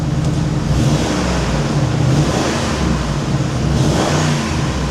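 A car's engine idles roughly, with a low oil pressure warning showing. It makes a steady, continuous rumble close by, with no talking.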